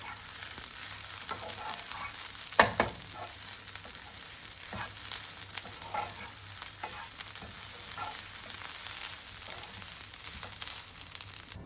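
Dried coconut being dry-roasted and stirred in a pan over a low flame for a Malvani curry paste, giving a steady soft scraping and rustling with light sizzle and a couple of sharper clinks, close and moderately quiet, with no talk.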